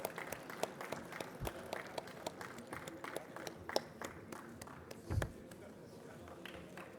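Scattered, light clapping from attendees at an annual industry conference, sparse and fairly faint, with a brief louder burst near the end.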